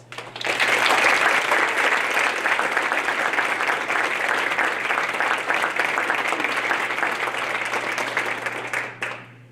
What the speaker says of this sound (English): So we can give him a nice round of applause.